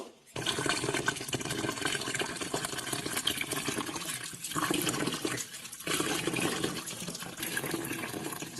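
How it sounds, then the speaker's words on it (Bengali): Basanti pulao rice being washed in water in a home kitchen: continuous splashing and sloshing with two brief pauses, close and moderately loud, no speech. "এবার পোলাওয়ের চালটাকে ভালো করে ধুয়ে নেব"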